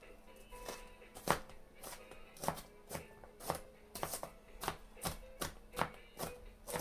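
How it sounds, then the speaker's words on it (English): A knife rough-chopping onion on a board for turnip greens with smoked turkey wing, giving a faint, close series of uneven thuds and taps at a quick, irregular pace, with no talking. "Like I say, just rough chop it."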